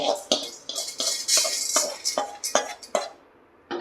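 Roasted moong dal is tipped from a pan into a metal vessel, giving a quick run of close clinks, rattles and scraping pours, fairly loud, that stop near the end.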